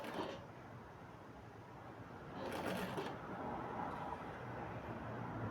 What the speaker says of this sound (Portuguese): juntando e costurando, como se fosse um franzido